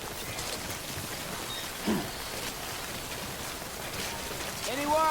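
Steady timefall rain in Death Stranding Director's Cut on PS5 Pro: a continuous, even hiss of falling rain fills the scene, with a brief soft thud near the middle and a short tonal call rising at the end.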